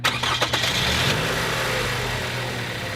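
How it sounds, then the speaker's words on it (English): A car engine cranks and catches, then settles into a steady low idle rumble that continues to the end. "a good way of checking that is just starting the car up."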